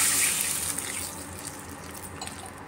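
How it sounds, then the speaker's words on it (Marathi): Water running steadily from a tap or being poured, a broad continuous rush that starts strongest and eases slightly, while two glasses of water go into a pot of oil-fried green chilli and garlic paste for horse gram shengole. "2 ग्लास पाणी घालायचं."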